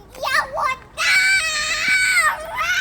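A young child lets out a long, loud, high-pitched wail, preceded by shorter whiny cries, close to the listener.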